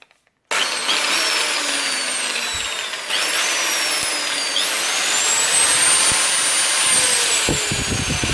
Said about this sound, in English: Yes, it is a sort of impact drill.